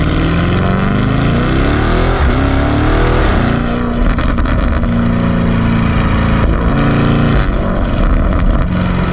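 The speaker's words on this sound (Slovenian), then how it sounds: "Gre za Lamborghini Urus, poganja ga 4-litrski Twin Turbo V8 motor." A Lamborghini Urus with its 4-litre twin-turbo V8 roars loudly and continuously, the engine note rising and shifting as it revs hard, close and alone.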